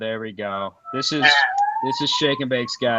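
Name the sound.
ambulance siren sound effect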